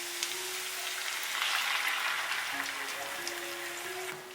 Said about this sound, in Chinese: 小火慢慢的把汤汁收干